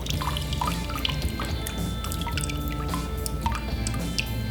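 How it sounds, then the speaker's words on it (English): Water drains and drips from an aquarium gravel vacuum siphon held upright, a steady trickle with scattered close droplets and splashes continuing throughout. "Let it drain and try to keep it upright"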